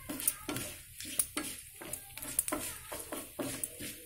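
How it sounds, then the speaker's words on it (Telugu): Mustard seeds, cumin and asafoetida crackle and pop in hot oil for a tempering, with irregular sharp spatters and a few stirring clinks of a spoon against the pan, heard up close. "చూసారా చెప్పట్లు ఆడుతుంది ఆవాలు జీలకర్ర ఇంగు"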